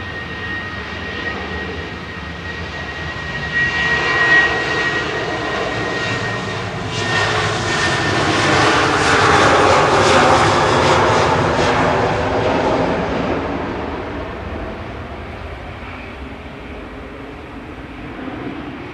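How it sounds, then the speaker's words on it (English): A KLM Boeing 737-800 bound for Amsterdam climbs away in a steady jet roar. The roar builds from a distant hum to a loud peak around the middle, then fades, with no talking. "KLM up to Amsterdam there, PHBXL, 737-800, flight 1036"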